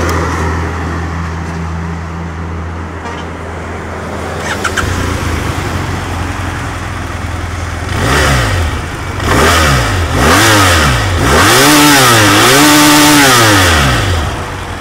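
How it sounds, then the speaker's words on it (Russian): A BMW F800R motorcycle idles steadily at first, then its engine is revved hard in a series of rising and falling bursts, loud and close, with no voices. "Это классный аппарат."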